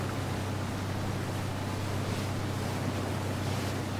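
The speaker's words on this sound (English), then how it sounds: "Oh my god, boats move so fast." Speedboat in Ghost Recon Wildlands racing across open water, a steady loud rushing roar of engine, wind and spray that holds without break throughout, with no talk over it.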